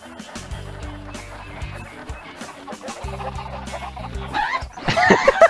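Several chickens cluck in steady, overlapping calls in a Shrek-themed video game, growing busier and louder toward the end.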